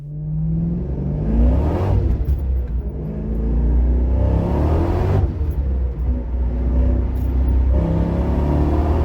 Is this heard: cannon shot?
no